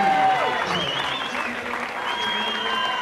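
Diving championship crowd applauding and cheering a springboard dive, a steady wash of clapping held throughout at fairly close range, with a commentator's voice talking over it.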